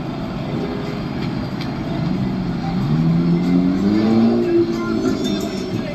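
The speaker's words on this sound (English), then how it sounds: "you hear the cars revving in the background" Car engines rev in the background, a steady throaty drone rising in pitch through the middle before settling, loud and continuous, with a faint voice mixed in.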